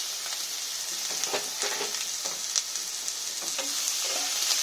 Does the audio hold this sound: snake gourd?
yes